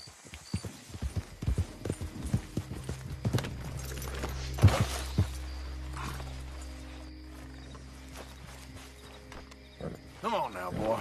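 Horse hooves clip-clopping on the ground in Red Dead Redemption 2, a rapid rhythmic run of close hoofbeats that eases off midway and picks up again near the end, with a voice speaking briefly.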